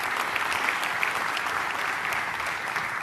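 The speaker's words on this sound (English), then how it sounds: "A little round of applause for this guy." Steady, even applause from an audience at a leadership speech, a continuous wash of many hands clapping at moderate distance, softly and without voices.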